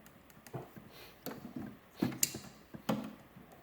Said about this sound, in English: Okay, we'll push this hose on.